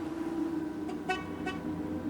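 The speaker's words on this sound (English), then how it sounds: "A honk of a passing vehicle from the road shook him from his dazed state" Passing vehicle on a road sounding two short horn toots in quick succession, moderately loud over a steady low hum of background noise.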